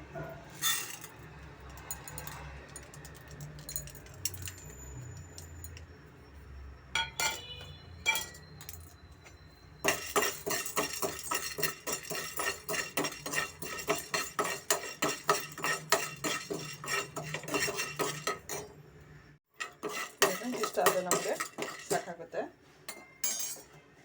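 Chana dal dry roasting in a pan for vangi bath and bisibele bath powder, with a spoon clinking and scraping against the metal in a steady, busy rhythm, sparse at first and then continuous and close.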